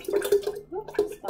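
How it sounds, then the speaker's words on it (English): Water splashes and sloshes in a few short, close bursts as kefir is strained and drained into a container, quiet and wet with small gurgles between them. "Oops, splashing."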